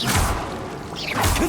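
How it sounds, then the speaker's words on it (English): A Bombarda blasting spell cast in Hogwarts Legacy: a swishing whoosh followed by a heavy crashing thud, then another sweeping whoosh and impact close behind it, loud and alone with no voices. "Bombarda!"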